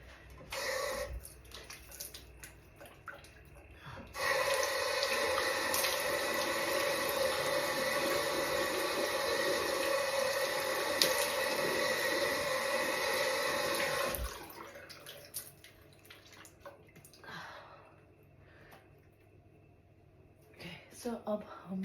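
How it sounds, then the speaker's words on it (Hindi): A bathroom tap runs steadily for about ten seconds while someone washes their face, a close hissing stream that starts and stops abruptly, with quieter splashes and handling noise before and after. "सो अब हम धोएंगे अपना फेस।"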